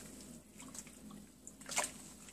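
Hair extensions are dunked into water mixed with conditioner, giving faint sloshing, dripping and a brief louder splash near the end against a quiet background.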